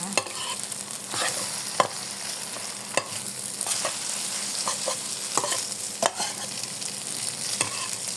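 Glass noodles with egg and vegetables, no meat, stir-fried in a pan: a steady close sizzle runs throughout, broken by regular sharp scrapes and clacks of the spatula tossing the mixture.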